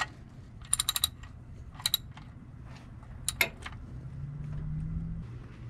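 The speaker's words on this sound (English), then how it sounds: "Now I just gotta tighten up the drain plug and add some oil." Ratchet tightening the oil drain plug on a 2006-2010 Hummer H3, quick clicking bursts in short runs with gaps, close and crisp with no talk.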